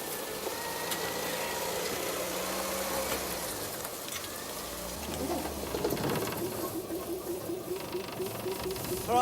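A coach engine idles and rumbles steadily at close range, with birds chirping faintly in the background.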